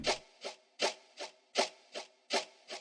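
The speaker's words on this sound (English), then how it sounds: "Whip loop as always." A looped whip-crack sample in a fast, dark Jersey drill beat: sharp, raspy strikes repeat in a steady alternating strong-weak pattern, about eight hits, with no voice.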